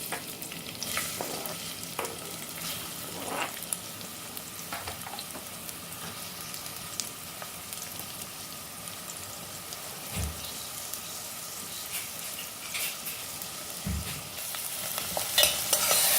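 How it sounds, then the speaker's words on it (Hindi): Onions sizzle steadily in hot oil in a pressure cooker, with occasional stirring scrapes and clinks of a utensil against the pot throughout. "कांदे को कुछ सेकंड के लिए भून दें।"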